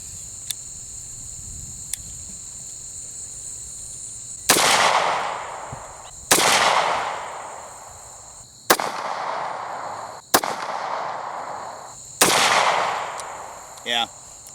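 A Stoeger Cougar 8040F pistol is fired from a rest at 5 yards outdoors, five loud, sharp shots spaced about two seconds apart, each with a decaying echo, over steady insect chirping and a couple of faint clicks.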